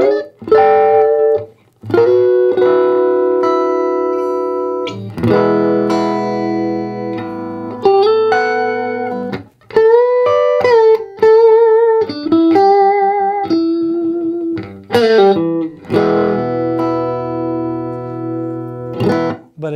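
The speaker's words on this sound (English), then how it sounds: "I'm playing a Squire Classic Vibe, just a basic Strat, so we can see what kind of tones we can get out of this" A Squier Classic Vibe Stratocaster plays clean through a BUD tube guitar amplifier, with ringing chords and single-note phrases sounding close and loud, occasionally pausing between runs.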